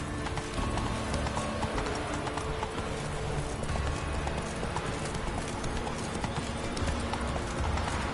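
Roach, a horse in The Witcher 3, gallops in a fast, steady clip-clop of hooves that runs throughout against busy game ambience.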